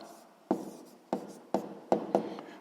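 A pen writes an answer by hand on paper, five short scratchy strokes in an uneven rhythm, each a quick sharp onset that tails off, close and fairly quiet.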